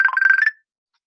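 A mobile phone ringtone plays a short burst of pulsing electronic tones, loud and close, and cuts off after about half a second into silence.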